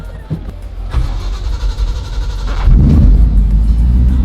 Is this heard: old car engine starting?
yes